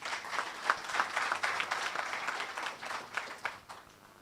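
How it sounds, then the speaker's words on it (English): An audience at an anniversary grants presentation in Jamaica applauds as a speaker comes up, a moderate, somewhat sparse patter of clapping with a few louder claps and faint crowd murmur. "Please give a round of applause to Mr. Downer."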